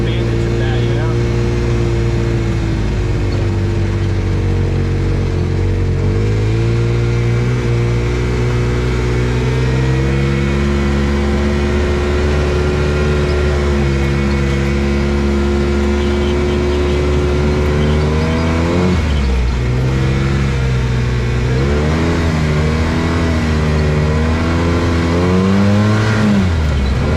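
An Arctic Cat Wildcat 700 Trail UTV drives through a snowy backyard. Its engine drones loud and close throughout, pitch rising and falling as the throttle is worked, with a couple of deeper surges near the end.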